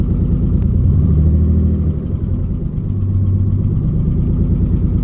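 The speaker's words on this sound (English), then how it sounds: "it is so hard to tell if it's running right with basically open headers" A Nissan 300ZX engine with open headers idles loud and close with a rough, throaty rumble, its pitch shifting slightly partway through.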